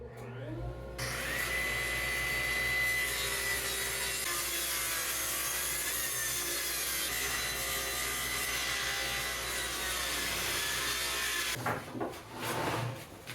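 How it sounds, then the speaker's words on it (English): A saw ripping a scrap wood board lengthwise at a 45-degree angle to make French cleats, a loud, continuous buzzing cut with a steady motor drone, ending as the blade spins down near the close. "rip this entire thing in half, but at a 45-degree angle to give us our cleat"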